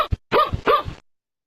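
Dog barking played back from a button in a simple app: two sharp, loud barks in quick succession with a brief yip before them, then abrupt silence.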